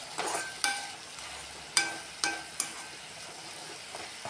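Potato and carrot pieces frying in coconut oil in a pan, with soft sizzling under a handful of sharp scraping stirs spaced irregularly, close and fairly quiet.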